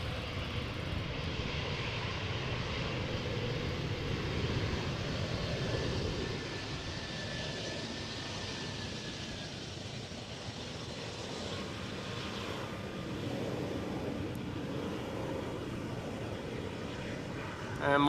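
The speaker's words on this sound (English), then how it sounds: "Let's just first see how this Embraer touches down." An Embraer airliner touches down at Amsterdam Schiphol Airport, a steady broad engine roar at moderate distance that holds for the whole stretch with no clear peak, rumbling low under a faint hiss.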